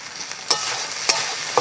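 Ground ginger and garlic with slit green chillies frying in a pan for crab curry, a soft continuous sizzle broken by a few brief stirring scrapes.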